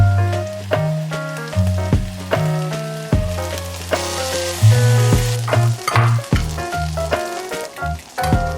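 A breakfast scramble of egg, sausage, tomato and avocado fries in a pan, its steady sizzle running beneath louder background music with a few sharper scrapes along the way.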